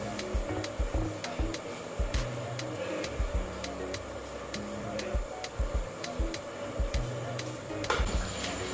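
A steady hiss of plantains frying in hot oil, with scattered light clinks and taps from a utensil against the pan.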